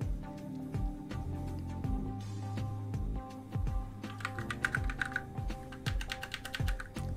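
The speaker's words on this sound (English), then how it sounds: "Typing is also hard." Steady typing on a computer keyboard, with rapid key clicks in irregular bursts and a low hum underneath.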